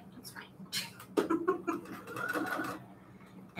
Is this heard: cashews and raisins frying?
no